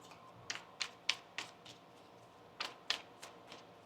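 Tarot cards being shuffled, giving a string of crisp snapping riffles close by, about ten sharp bursts in uneven clusters over a quiet background.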